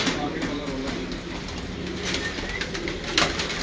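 A domestic pigeon in a fancier's loft, soft cooing and rustling over a steady background hum, with a voice speaking nearby.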